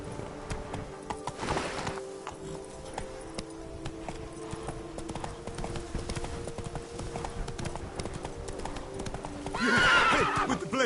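Roach the horse gallops in a video game, a steady rapid clip-clop of hooves running throughout, with a whinny partway through and a louder burst near the end.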